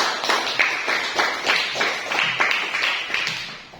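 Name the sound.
applause in a classroom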